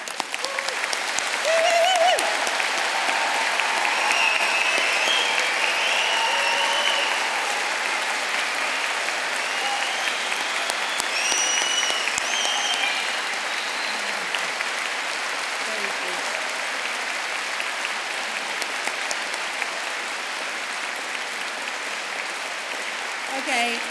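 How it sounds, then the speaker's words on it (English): Sustained applause from a large audience at a university degree ceremony in Birmingham, loud and dense at first, then gradually thinning over about twenty seconds, with occasional voices and whoops in the crowd. "we should give them the first of many rounds of applause this afternoon"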